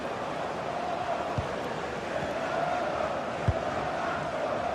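Dense, steady roar of a football video game stadium crowd fills the whole stretch, a continuous wash of fan noise with a couple of brief low thumps rising out of it.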